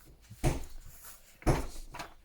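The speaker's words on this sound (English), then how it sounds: "That noise you can hear is hubby putting up my utensil hooks." Kitchen utensil hook rails being put up on a wall at home, with two sharp thumping knocks about a second apart, somewhat distant, amid faint shuffling and handling noise.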